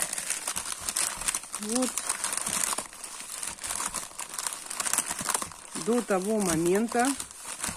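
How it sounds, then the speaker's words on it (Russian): Paper crinkles and rustles continuously as it is wound up by hand for a craft project made from waste materials, close and busy, with someone speaking over it. "Потом я вот так вот сматывала бумагу."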